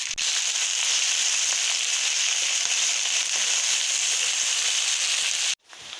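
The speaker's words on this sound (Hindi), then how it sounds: "ऑयल गर्म हो चुका है, मैं इसमें डाल देंगे भिंडियाँ और भिंडियों को अच्छे से फ्राई करेंगे" Okra (bhindi) fries in hot oil with a loud, continuous hissing sizzle up close, cutting off abruptly near the end before a softer sizzle resumes.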